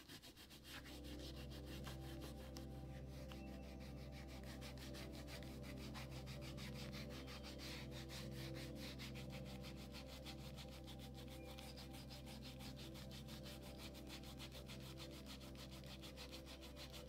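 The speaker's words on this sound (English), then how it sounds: "Here I've got a scrap piece of leather and I'm just removing the glue." A scrap piece of leather is rubbed against old glue to clean it off, producing a steady, close, continuous scuffing and rubbing sound that goes on without pause.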